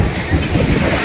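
Sea waves washing at a beach in Mumbai, a loud, steady roar of surf mixed with heavy wind buffeting the microphone for about a second.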